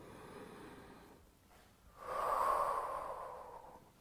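A single deep inhale taken during a lunge workout, drawn in audibly and held for over a second after a quieter stretch of faint breathing, close to the microphone with no talking.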